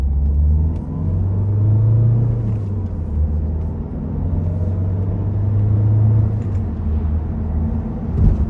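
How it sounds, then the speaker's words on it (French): A Peugeot 3008 accelerates hard on a straight road, heard from inside the cabin as a steady, loud, low engine drone and road rumble that rise and fall through the run, with no talking. "J'ai une petite ligne droite, ça me permet de pouvoir faire une accélération un peu plus poussée."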